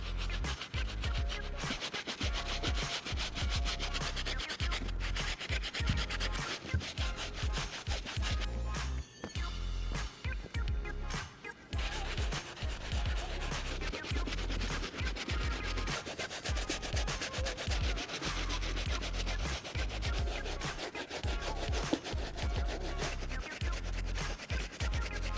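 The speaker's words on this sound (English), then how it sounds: "Always start with the soft bristle brush when it comes to the cleanings." A soft bristle brush scrubs a white denim Jordan sneaker in rapid, continuous back-and-forth strokes, close and steady with a brief pause midway.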